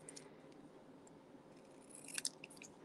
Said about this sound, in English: I'm just going to cut it straight down.